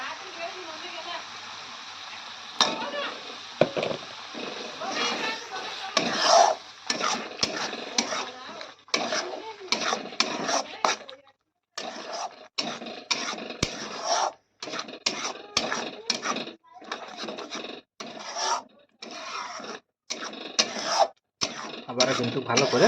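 Spatula scraping and stirring in a pan as tomato paste masala is sautéed for a fish head curry: repeated rasping strokes broken by brief pauses, steady and close throughout.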